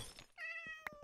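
A cat meows in Minecraft, a clear, drawn-out tonal meow that is close and fairly loud, followed by a short sharp chirp and a faint thump.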